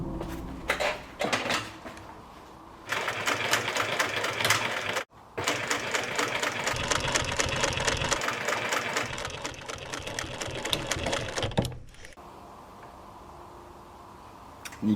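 A sewing machine stitching Porsche 991 GT3 RS seat covers in bursts: rapid clattering runs broken by short pauses and handling noises, recorded close in a quiet workshop.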